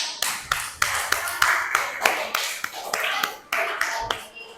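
Classroom of pupils clapping hands together in a lesson, a run of separate sharp claps with uneven rhythm, fairly close and moderately loud, with faint voices in the background.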